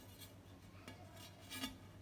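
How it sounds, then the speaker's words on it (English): A metal lid set back onto a cooking pan of mutton dum biryani, a few faint light clinks and a soft metallic rub, quiet and close with no talking. "I'm gonna put the lid back, and also I'm gonna put my spice grinder on top of it"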